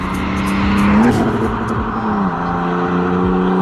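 A BMW 325d E92 coupe's diesel engine accelerates hard, loud and close, its drone rising in pitch, dropping briefly at a gear change, then climbing again.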